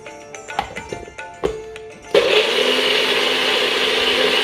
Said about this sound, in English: we blend it into a nice cream, walnut cream